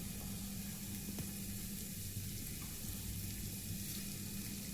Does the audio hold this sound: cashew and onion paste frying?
yes